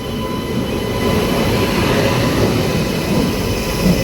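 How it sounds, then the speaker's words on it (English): A train with a WAP-7 electric locomotive stands at a station on the Janmabhoomi Express route, producing a loud steady rumble and mechanical drone with faint metallic squeal, close and continuous, without voices. "VAP 7 locomotive."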